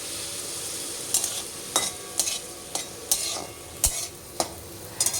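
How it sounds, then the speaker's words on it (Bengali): Potatoes fry in a pan for a tiffin snack, a steady soft sizzle broken by a string of sharp stirring scrapes about every half second, close and moderately quiet, with no voices. "আর আলু ভাজছি টিফিনটা করবো বলে।"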